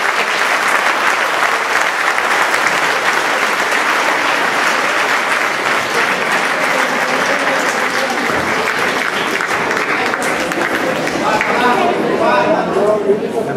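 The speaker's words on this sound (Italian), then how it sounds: "Ecco, un applauso al primo." Sustained audience applause at a citizenship ceremony in Scandicci, a dense, steady roar of many hands lasting the whole stretch, with scattered voices mixed into the clapping.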